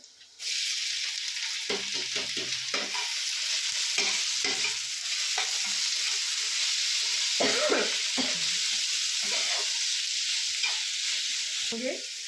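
Onions hit a hot pan with garlic and chili, bursting into a loud steady sizzle, with repeated scraping stirs of a spatula punctuating the hiss over twelve seconds.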